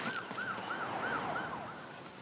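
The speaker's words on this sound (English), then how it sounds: "I'm not sure anyone would question what a police siren was." A police siren yelps in quick repeated rising-and-falling whoops, about five cycles, fairly close and loud over faint background hum.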